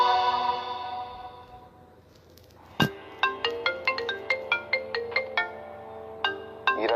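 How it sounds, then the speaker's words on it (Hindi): An incoming call sets off a phone ringtone, a quick run of bright plucked notes in a bouncy repeating melody. It follows a fading sustained chord, and the ringtone sounds close and clear with no talking. "हीरा के दादाजी मिस्टर कपूर का फोन आ रहा है।"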